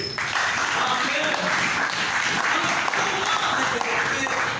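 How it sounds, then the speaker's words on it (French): A church congregation applauding in praise, a dense continuous wash of many hands clapping together, loud and sustained for several seconds, with voices mixed into the clapping. "Applaudissons notre Dieu."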